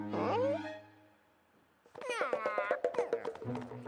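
A cartoon cat in Garfield meows twice, a drawn-out call, a pause, then a longer wavering meow with clicking noises underneath, close and clear.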